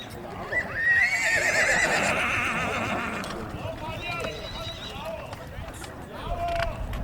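Horses from a two-horse carriage team at a carriage-driving race whinny loudly and nearby, with hoof clops and faint voices in the background.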